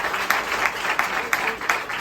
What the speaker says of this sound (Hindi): उनकी तालियां बजा के हम लोग स्वागत करेंगे